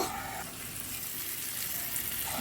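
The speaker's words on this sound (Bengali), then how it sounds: "দিয়ে একটু আবারও কষে নেব" Tomatoes and curry leaves frying in oil for a potato and soybean curry give off a constant close hissing sizzle with no break.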